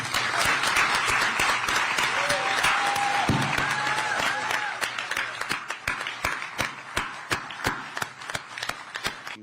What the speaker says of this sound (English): thank them with what we communally accept as applause for the Dennis family